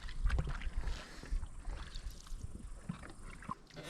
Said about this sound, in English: I just have my beer and I let my woman do all the paddling.